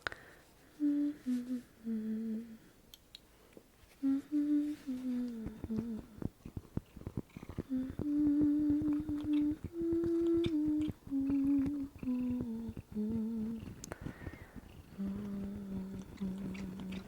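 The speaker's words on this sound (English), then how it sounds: "the sound of my cat aggressively licking my arm." A cat aggressively licking a person's arm, heard as close rasping strokes in quick irregular bursts, with a steady tonal hum running beneath most of the sound.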